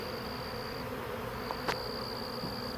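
A swarm of gentle honey bees hums outdoors around a tree limb, giving a steady, soft drone with no breaks and a faint whine that rises and falls above it.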